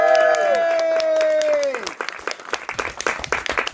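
At a comedy show, a sustained spoken or sung tone fades out and the audience breaks into a round of applause: sharp, uneven claps that start sparse and grow louder.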